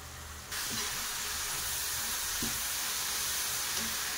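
Coconut mixture for kobbari undalu frying in ghee, a steady close sizzling hiss that swells after a quiet start, with a few soft scrapes of stirring.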